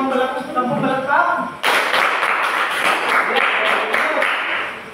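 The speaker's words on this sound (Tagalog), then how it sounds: "Bigyan natin ng 5 palakpak, 10 palakpak." A classroom claps together during a teaching demo: loud, dense applause that swells after a moment of voices and continues steadily before tapering off.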